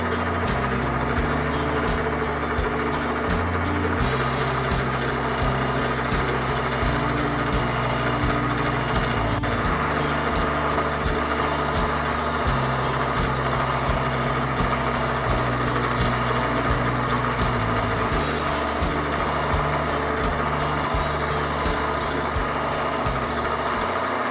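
A lathe turns a .300 PRC rifle barrel while the tool cuts its tenon, giving a steady machine hum and whir that runs unbroken for the whole stretch with no voices.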